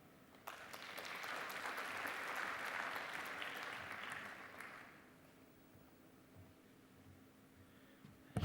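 Conference audience applauding a speaker taking the stage at a space conference: a hall full of steady clapping that swells for several seconds, then fades out, fairly distant and soft.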